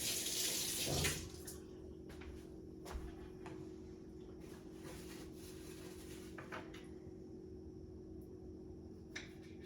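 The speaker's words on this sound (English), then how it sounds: "give them a quick rinse first" Tap water runs over heirloom tomatoes in a kitchen sink. A brief louder splash at the start settles into a faint, steady flow with a few small knocks.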